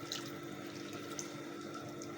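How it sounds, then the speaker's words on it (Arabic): Water poured into a cooking dish while preparing a summer meal, a steady, moderately quiet rushing and splashing stream running throughout with no voices. "حطيت لها شويه ماء نحركها"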